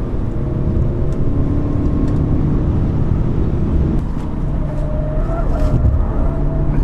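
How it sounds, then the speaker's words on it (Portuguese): A 2017 Honda Civic accelerates hard uphill, its engine a steady, loud drone with road and wind noise throughout and no talk over it. "Acelera com muita disposição. E a gente ainda tá subindo aqui"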